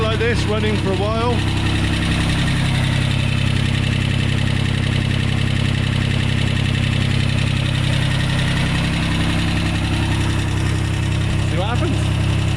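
A digger's diesel engine idles steadily outdoors in drizzly weather, a loud, continuous low rumble with a constant throb that runs unchanged for the whole stretch.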